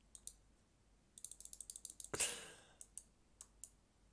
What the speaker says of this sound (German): Ich klicke.